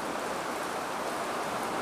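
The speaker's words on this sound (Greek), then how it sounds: "Καταιγίδα πραγματική. Καντάρια βροχή." Heavy storm rain falling hard outside a balcony, a dense, loud, unbroken hiss of pouring water with no pauses and no voices.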